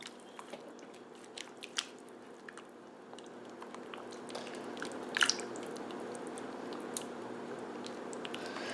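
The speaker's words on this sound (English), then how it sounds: "And then I'm just going to stir that in." Basil, thyme, oregano, salt and brown sugar being stirred into a thick tomato sauce, soft wet squelches and spoon scrapes, close and quiet, with a brief louder clack near the middle.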